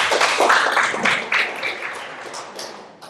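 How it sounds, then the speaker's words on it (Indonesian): Attendees at a school sharing session clapping together in a brief burst of applause, a dense wash of claps that gradually thins and fades within a few seconds. "Baik, tepuk tangan untuk kita semua."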